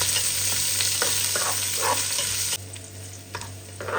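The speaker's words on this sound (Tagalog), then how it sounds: "Guys, hintayin natin mag-brown yung bawang at sibuyas" Garlic and onion sautéing in a pan as a base for laing, a loud, close, continuous sizzle with intermittent scraping stirs, the hiss dropping noticeably partway through.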